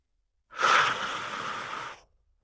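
A single long, breathy diaphragmatic exhale, close and fairly loud, lasting about a second and a half before fading out.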